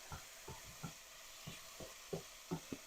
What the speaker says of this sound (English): we're just going to continue to saute this